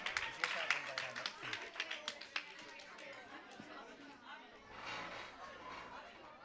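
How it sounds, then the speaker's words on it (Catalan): A small audience gives a brief round of clapping at a campus radio show event, quick hand claps for a couple of seconds fading into murmured chatter and a voice talking. "Un aplaudiment."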